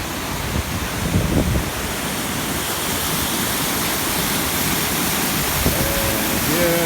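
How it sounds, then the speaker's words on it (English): Krupa waterfalls on the river Vrbas near Banja Luka, a broad continuous roar of rushing, splashing water that stays steady and fairly loud throughout, with no voices. "And here the beautiful waterfalls."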